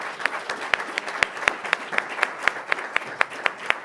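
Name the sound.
audience round of applause for the panel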